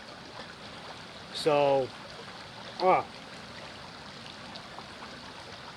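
A stream flows beside a wild camping spot with a hot tent, giving a steady, soft rushing hiss throughout. A voice breaks in briefly twice over the water.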